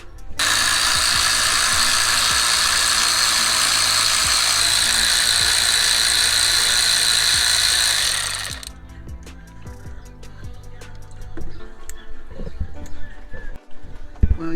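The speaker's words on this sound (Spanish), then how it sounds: "Entonces ahorita quito los tornillos" A power tool buzzes steadily for about eight seconds while loosening bolts on a Ford Ranger FX4 water pump. After it stops, clinks and metallic handling noises of tools and bolts follow, close by.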